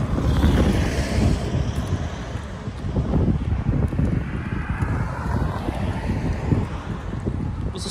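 Coastal wind at the Bay of Fires gusts hard against the microphone in rumbling buffets, with surf washing beneath it, rising and easing over several seconds.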